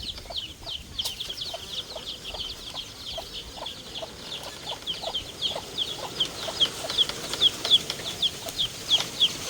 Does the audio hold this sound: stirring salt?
no